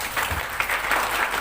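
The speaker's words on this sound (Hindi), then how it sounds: "लास्ट काम ताली बजाइए।" An audience at a business talk bursts into a dense, steady round of applause, loud and close, with no speech over it.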